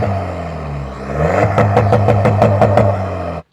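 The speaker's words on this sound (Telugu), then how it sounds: "అండ్ ఇప్పుడు డీజిల్ సౌండ్ వినండి ఒకసారి" A tuned VW Polo 1.5 TDI diesel with a full exhaust system and performance downpipe idles, then revs hard in a rapid series of throttle blips, loud and close with a rattly rasp.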